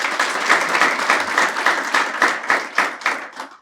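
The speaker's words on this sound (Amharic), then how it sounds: "ጭብጨባው ግን ያው እንዳይበዛ ጊዜያችን ይወስድብናል" An audience at a literary program by summer trainees claps in a steady, fairly close burst of rhythmic applause that gradually thins toward the end.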